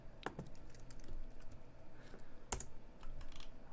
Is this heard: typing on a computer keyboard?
yes